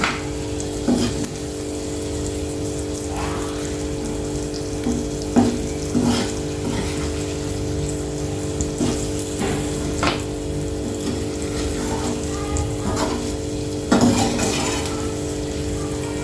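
Onions and egg curry fry in a pan, a steady close sizzle running throughout while a utensil stirs and scrapes with occasional sharper clinks against the metal, no voices.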